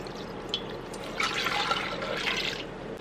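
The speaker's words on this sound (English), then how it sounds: "So first I'm gonna add 4 cups of filtered water." Filtered water pours steadily into an Instant Pot for a few seconds, a continuous close splashing and filling sound with no talking.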